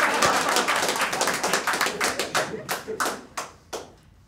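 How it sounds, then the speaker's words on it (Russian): Audience applause at a stand-up comedy show starts as a dense wash of clapping, then thins into scattered individual claps that fade out over a few seconds. "моя девушка тоже аплодирует сейчас"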